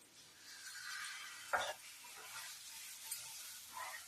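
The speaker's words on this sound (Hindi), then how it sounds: "फिर थोड़ी देर चलाऊंगी" A gram flour barfi mixture is stirred in a pan, with a soft, steady sizzle and scraping and one sharper knock of the spoon partway through. The sound is quiet and close, with no talking.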